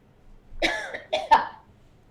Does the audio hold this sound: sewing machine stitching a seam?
no